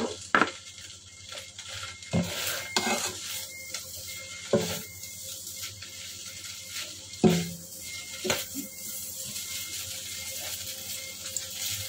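Rice noodles stir-frying in a pan, a low, steady sizzle broken by repeated scraping and clacking strokes of a utensil against the pan at irregular intervals.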